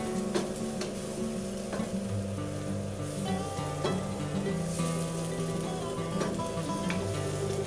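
Vegetables with Cajun seasoning and olive oil sizzle steadily in a pan while a utensil stirs them, giving a constant crackling hiss with scattered scraping clicks and no voices.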